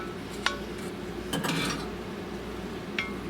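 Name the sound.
spoon scooping ground beef mixture back into pan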